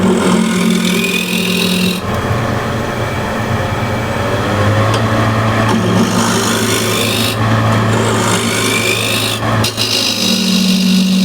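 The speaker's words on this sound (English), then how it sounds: "Use a shear scraper to shape this bowl." A shear scraper shaves a wooden bowl on a lathe, with a steady loud rasping scrape and a low motor hum running throughout and a few brief breaks between passes.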